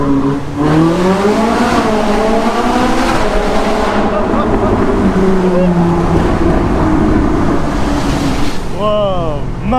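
A car engine roars through a tunnel, loud and close with a steady echoing rush and rising pitch sweeps as it revs; a brief burst of cheering voices comes near the end.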